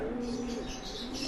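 Racing pigeons in a loft give soft, steady cooing, a low continuous murmur with faint chirps over a constant background hum, close and moderately loud.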